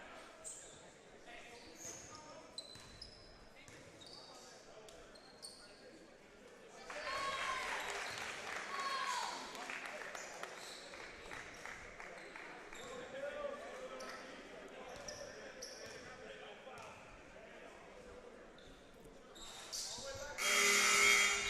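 Basketball bounces on a college gym court during an ACAA men's game, with scattered dribbles and squeaks under crowd noise, a commentator talking, and a swell of cheering and applause near the end.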